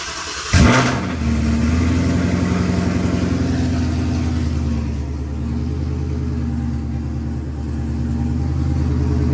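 A Ford Mustang engine cranks and catches with a sudden burst, then settles into a loud, rough, steady idle rumble on a cold start.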